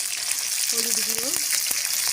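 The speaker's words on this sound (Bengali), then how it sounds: "ভালো করে পটলগুলো আমি লাল লাল করে ভেজে নেব।" Pieces of pointed gourd (potol) seasoned with salt and turmeric frying in a pan, giving a loud, steady sizzle throughout, with a brief tonal squeak partway through as the pieces are stirred.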